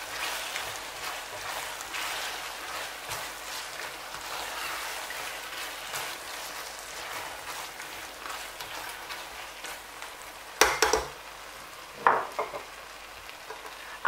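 Onions being stirred into well-fried fresh tomatoes and tomato paste for Cameroonian jollof rice, a continuous soft sizzle with a few sharp scraping strokes of a spoon near the end.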